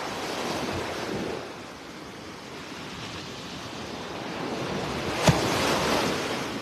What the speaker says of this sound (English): we get some really nice little waves breaking here on the shore